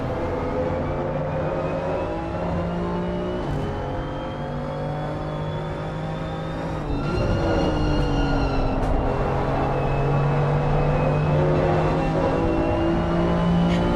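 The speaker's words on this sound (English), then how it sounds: "as you can hear, a lot of that noise coming from the sequential gearbox" BMW M2 CS race cars with sequential gearboxes lapping Monza in a sim racing game, a steady loud engine drone with rising and falling pitch as revs climb and shift, building louder partway through, with no talk.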